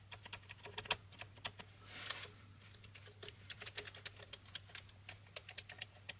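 Keys clacking on a Commodore 64 keyboard under test after repair, a fast irregular run of crisp, close taps with a brief burst of broader noise midway, quiet and without talk.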